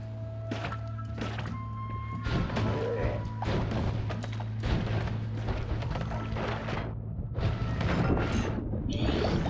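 Explosions from a magic missile in the Noita video game, a run of crashing booms and thuds mixed with crumbling debris over a steady low hum, loud and dense throughout.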